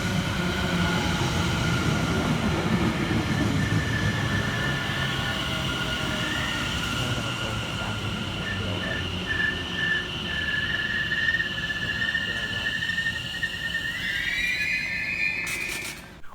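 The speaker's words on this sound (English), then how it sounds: "Arriving next at the station is 710-103 and 710-109, working the 1332 London Overground service from London Liverpool Street through to Enfield Town" A London Overground Class 710 electric train pulls into Stamford Hill station, a steady loud rumble of wheels on rail with squealing brake tones building, and a sharp high screech and hiss as it slows near the end.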